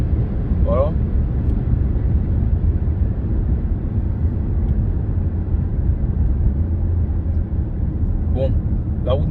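Hyundai Sonata Limited driven in sport mode, its engine a steady, loud low drone with road rumble filling the cabin as it accelerates; brief voice fragments near the start and end.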